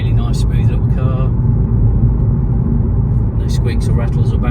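A 2014 Audi A3 1.4 TFSI Sportback with S-Tronic gearbox driving along a road, a loud steady low engine and road rumble heard from inside the car, with a voice talking over it.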